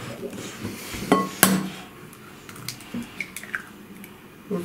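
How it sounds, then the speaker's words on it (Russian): A sharp crack followed by a wet splat into a glass bowl, with faint clinks of kitchenware around it. "давай я тебе помогу разбить яйцо"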